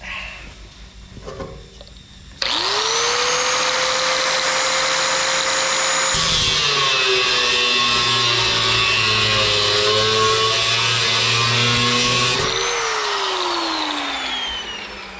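Power tool cutting metal for a motorcycle water bottle holder on a Harley Sportster, a loud steady whine with a rising pitch at the start and a deeper grinding load in the middle, running continuously for about twelve seconds.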